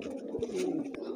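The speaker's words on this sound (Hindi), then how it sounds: "ये मादा कबूतरी है" A female pigeon coos in a low, steady, throaty murmur, close and continuous through the moment.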